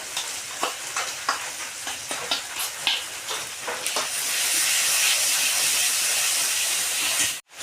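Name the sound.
spice paste added to hot pan, sizzling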